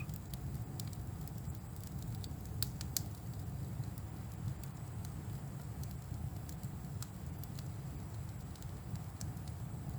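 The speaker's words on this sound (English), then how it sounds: "And the crackling of this lovely wee fire." Small sharp crackles and pops snap at irregular intervals over a soft low rumble, quiet and close, like a small fire burning.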